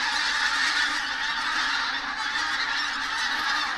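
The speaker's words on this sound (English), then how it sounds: "There's geese." A large flock of hundreds of geese honking on the Scottish east coast near a beach, a dense continuous chorus of overlapping honks, loud and steady throughout with no talk.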